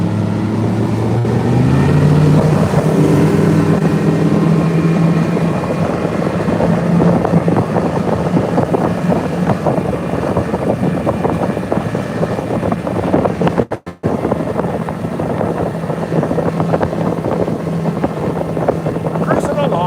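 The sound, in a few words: fishing boat motor cruising down a lake at speed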